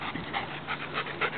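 Several dogs pant in short, rhythmic bursts during a morning exercise run across open fields with small hills, the breathing close and steady with no talking over it.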